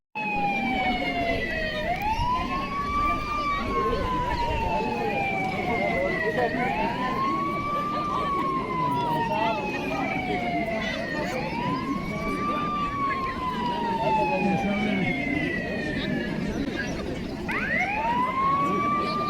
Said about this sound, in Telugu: ఒక సైరన్ వస్తుంది